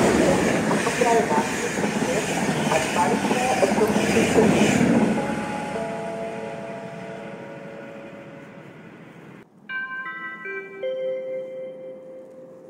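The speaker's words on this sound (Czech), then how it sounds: "U prvního nástupiště bude projíždět vlak." A train passes through the railway station at Mohelnice in the Czech Republic with a loud rolling rumble that fades away over several seconds. A chime and a station announcement voice follow.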